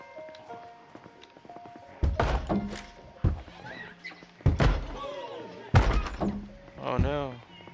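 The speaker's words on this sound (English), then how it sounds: "I hear the zombies bouncing or banging on the door." Zombies banging on a door in the co-op zombie survival game Project Zomboid, several heavy thuds and slams arriving in uneven bursts, fairly close, with a voice talking between the impacts.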